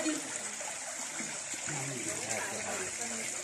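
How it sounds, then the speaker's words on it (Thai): Kinnaree waterfall near Hin Naka in Bueng Khong Long flows with a soft, continuous rushing and splashing of water, fairly faint, with voices murmuring underneath. "นี่น้ำตกกินนารีครับตัวนี้"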